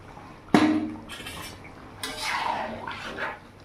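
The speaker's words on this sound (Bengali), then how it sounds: "এবার আমি এখানে বাদবাকি জলটা দিয়ে দিলাম" Sour yogurt water poured into a pot of mutton: a sharp clank of the pot at the start, then two bursts of splashing liquid, up close with no talk.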